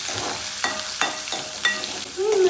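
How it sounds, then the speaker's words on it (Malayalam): Shallots and green chillies, with garlic, being stirred in a frying pan: a steady sizzle under several distinct scraping strokes of a spoon, roughly one every half second, close and clear. "ഇളക്കി കൊടുക്കാം"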